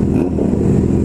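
A Yamaha MT-09 Tracer engine revs loudly and close for a brief moment, a dense, rough roar held at steady high volume with no pauses.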